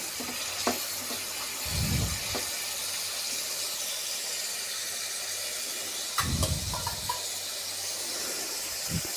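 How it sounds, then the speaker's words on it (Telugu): Bitter gourd pieces fry in a pan with a soft, steady hiss, broken by a couple of brief louder sizzling stirs; no voices. "కాకరకాయ ముక్కలు వేసేసుకుని ఫ్రై చేసుకుందామండి."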